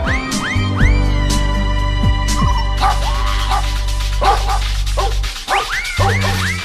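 Dogs at a healthy-dog contest held during a Thai temple merit fair bark and yip repeatedly in quick, high-pitched bursts, loud and close over a steady background drone.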